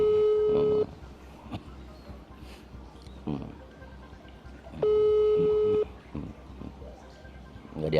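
A phone line's steady electronic tone sounds for an outgoing video call, coming in two long loud pulses with a quiet gap between them. Faint room noise and background chatter fill the gap.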